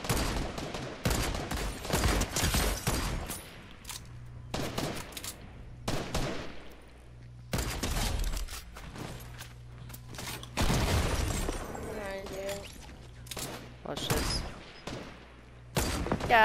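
Gunfire in a Fortnite Zero Builds match: repeated loud bursts of shots and rapid volleys, some near and sharp, separated by brief lulls, with a few isolated single shots scattered between the bursts.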